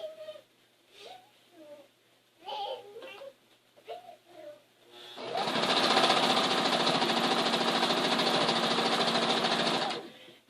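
Sewing machine stitching binding onto a quilt, a steady fast mechanical whir running for several seconds after a stretch of speech.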